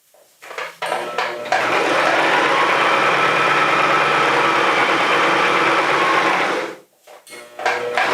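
A sewing machine stitches fabric in one continuous close whirring run of about six seconds, starting and stopping cleanly, with short pauses and light handling noise on either side.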